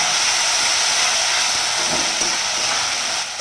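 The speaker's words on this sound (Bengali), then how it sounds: "এবার এটাকে ভালো করে একটু ভাজতে হবে।" Duck meat frying in a pan with ginger-garlic paste, a loud continuous close sizzle and hiss that holds steady throughout before easing slightly at the end, with no talk.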